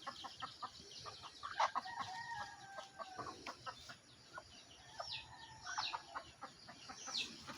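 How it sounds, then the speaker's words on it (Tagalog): A chick chirps on a hillside farm amid chickens, with repeated thin high peeps and clucking calls scattered throughout, faint and fairly close, with no talking. "May sisiw na siyap."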